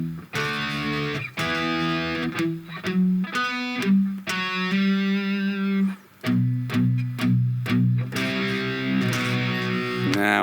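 Distorted electric guitar plays the closing tail of a riff, a loud run of chugging palm-muted low notes and choppy accented chords with sharp stops, alone with no talk.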